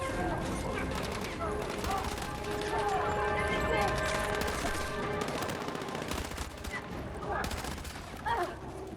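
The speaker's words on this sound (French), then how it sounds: "Je lance une grenade." Battlefield 6 gameplay is full of rapid gunfire and machine-gun bursts, with a grenade thrown amid the shooting and voices talking over the busy battle noise.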